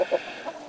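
Soft, low clucking from hens and roosters in a winter coop, in short separate bursts, fairly close and quiet, with no voices.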